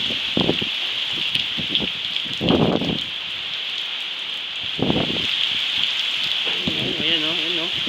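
Rain on a wet morning in Sogod, Leyte, during the rainy season with strong wind, a steady close hiss of falling drops throughout, with someone talking intermittently over it.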